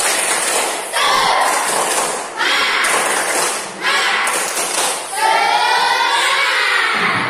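Classroom students perform a rhythmic spirit clap in bursts, loud and close, with group chanting voices between and over the claps.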